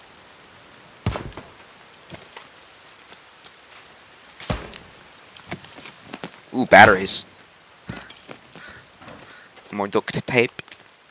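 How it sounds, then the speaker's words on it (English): Rain falls in the survival video game The Forest as a soft, scattered patter, broken by a few sharp item pickup thumps while someone talks over it. "It's raining"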